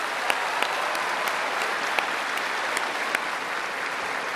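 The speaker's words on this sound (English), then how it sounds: "Another round of applause." An audience claps at a Carols by Candlelight concert in Australia, producing a dense, even wash of applause with a few sharper near claps and no speech.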